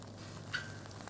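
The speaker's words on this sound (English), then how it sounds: "You hear that sizzle? That's what you want." Food sizzles in oil in a pan, a faint, steady hiss with a brief brighter crackle partway through.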